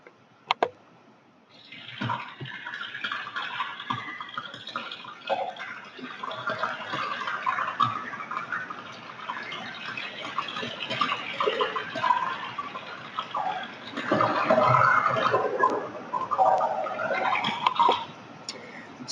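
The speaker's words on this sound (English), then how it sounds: "So those explosive sounds you can hear are bubbles explosively bursting out of the melting ice in the fjord." Underwater recording beneath melting glacial ice in a fjord, filled with dense crackling and fizzing as countless bubbles burst from the ice, with sharper popping bursts scattered throughout and a louder flurry near the end.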